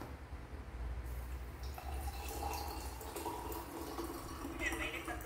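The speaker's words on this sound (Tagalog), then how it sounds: "Lagyan na siya ng tubig," Water is poured onto chia seeds in a glass, a steady splashing trickle heard fairly close and continuous for several seconds.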